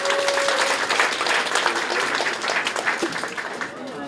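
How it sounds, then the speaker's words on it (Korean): Church congregation at a memorial hall opening thanksgiving service applauding to welcome a speaker forward, a broad sustained clapping that carries on evenly and tapers slightly near the end, with some voices mixed in. "그럼 박수로 맞아주세요."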